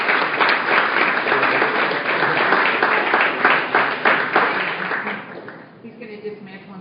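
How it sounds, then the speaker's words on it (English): A conference audience at an Advertising Week social media panel breaks into dense, sustained applause for a departing speaker, steady and full for about five seconds before thinning out as a voice begins over the last scattered claps. "Please give Rory a round of applause."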